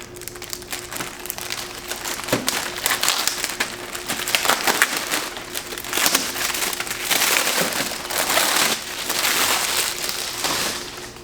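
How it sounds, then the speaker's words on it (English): Keys tear and crumple the plastic packaging around a Coway air purifier HEPA filter, giving close, continuous crinkling and crackling with sharper snaps throughout. "And then I'm going to use my keys to open the plastic."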